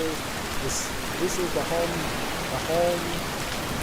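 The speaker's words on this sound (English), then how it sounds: "It's a rainy season here in the mountains." Steady rain hisses in a mountain map of a Green Army Men video game, a constant dense patter filling the background while someone talks briefly over it.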